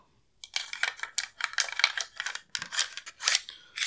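Metallic clicks, snaps and scrapes ring out while the bolt of an LWRCI SMG-45 gun is put back together, coming in quick irregular bursts of close, crisp mechanical handling with no voices.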